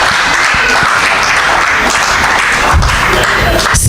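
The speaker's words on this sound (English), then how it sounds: "A round of applause has been beautiful" Sustained audience applause at the close of the Live Across Africa poetry event, a dense steady wash of many hands clapping at constant loudness throughout, with the faint murmur of voices mixed in.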